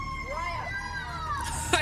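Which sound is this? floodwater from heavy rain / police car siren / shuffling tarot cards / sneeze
police car siren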